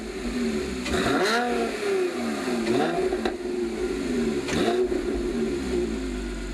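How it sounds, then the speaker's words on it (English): A Porsche 997.2 Carrera S Cabriolet with a Maxflo sport exhaust, X-pipe and sport headers is blipped repeatedly after a cold start, giving three or four sharp, close revs that rise and fall over a throaty idle. "Jeff, give it a blip. Let's get a cold start."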